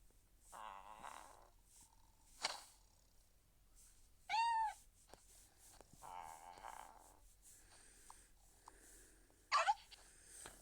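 A cat meows a few times in a quiet room, with soft snorting breaths between the calls and one sharp, high-pitched cry near the end.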